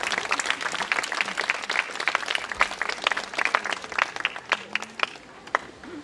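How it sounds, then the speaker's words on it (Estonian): An audience claps steadily at an outdoor park concert and award ceremony in Keila, a dense, sustained round of applause from a crowd that thins slightly toward the end. "Plaksutame neile veel kord."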